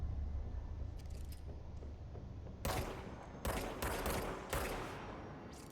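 Gunfire in the video game Control at Black Rock Quarry: after a quiet stretch, several sharp loud bursts of shots arrive in quick succession, close and alone without talk.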